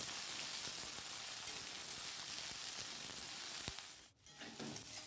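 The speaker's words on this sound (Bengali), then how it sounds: "এখানে দেখো ফুলকপিটা আমি ভাজা বসিয়ে দিয়েছি" Cauliflower fries in a pan with a soft, steady sizzle that stays fairly faint, broken near the end by a brief clink and a short dip in the noise.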